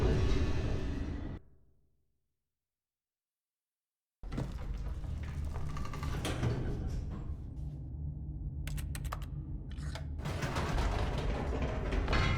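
Elevator machinery in The Stanley Parable, a steady mechanical hum and rumble that cuts out into a few seconds of silence, then resumes with faint clanks and creaks as the car travels.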